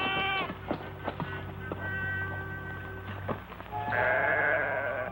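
Several sheep bleat in overlapping, wavering calls, fairly close, with a louder burst of bleating near the end.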